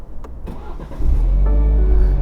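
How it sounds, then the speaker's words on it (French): A BMW 4 Series Convertible starts with keyless ignition: a quiet cabin with a few light clicks, then the engine catches and settles into a low, steady idle hum, close and fairly subdued. "Démarrage sans clé, donc je pose la clé ici et je démarre tout de suite."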